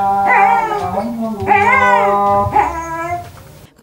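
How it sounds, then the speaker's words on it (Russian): Dog outside a mosque wailing and howling in long rising and falling tones along with an imam's call to prayer, loud and close, several sustained drawn-out phrases in a row. "Вместе с ним пес Стив садится во дворе возле скамейки и начинает в прямом смысле слова напевать, не выть, в такт пению имама."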